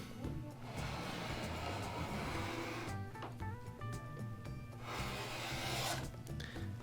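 Quilt fabric being cut on a cutting mat, a close, continuous scraping and rubbing texture with brief pauses and faint tonal squeaks in the middle.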